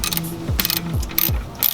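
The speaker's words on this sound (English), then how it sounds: "this end link right here, this nut is gonna be a 17, which shouldn't be that hard to break loose" A wrench working on a 17 mm end link nut on a Toyota 86 suspension, giving repeated ratcheting clicks in three bursts with low descending creaks, close and fairly loud with no talking.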